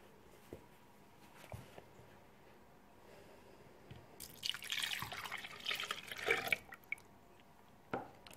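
Milk poured into a blender jar in a kitchen, a burst of splashing liquid lasting a couple of seconds amid quiet background clicks and faint handling noises.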